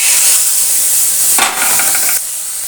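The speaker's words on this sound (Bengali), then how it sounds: "চিংড়িগুলোকে ভেজে তুলে নেব।" Shrimp fry in a pan with a loud, dense hiss that surges briefly in the middle, then eases to a softer steady sizzle.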